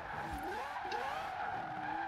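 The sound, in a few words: car drifting with tire skid, 2002 RX7 in Forza Horizon 4 video game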